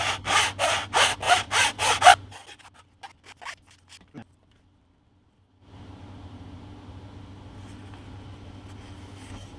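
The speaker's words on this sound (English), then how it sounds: "So we're just going to take our file" A hand file scrapes across a small model building part in about six quick, even back-and-forth strokes, close and crisp, followed by a few faint taps and then near silence with a low room hum.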